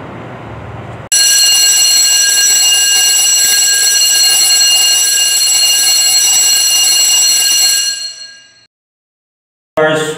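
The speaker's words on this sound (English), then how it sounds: "The ship's alarm signal is sounded by continuous ringing of ship's electrical bell or the continuous sounding of ship's horn." A ship's general alarm on board: an electric bell rings continuously and loudly for about seven seconds, then cuts off and decays, followed by a brief silence and a short burst of another sound at the end.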